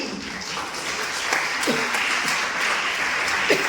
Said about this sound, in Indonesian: Berikan tepuk tangan dulu bagi Tuhan.